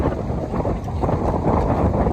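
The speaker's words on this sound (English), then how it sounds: "It's so windy" Strong wind buffets the microphone in loud, uneven gusts, a rough roaring blast that never lets up.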